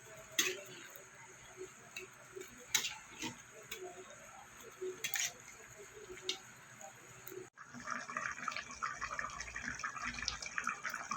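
Fish curry of rohu with ridge gourd, potato and drumstick simmering in a pot, a steady low bubbling with scattered ticks and pops that grows denser and louder in the last few seconds.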